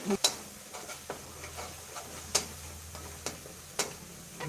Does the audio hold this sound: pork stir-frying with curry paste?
yes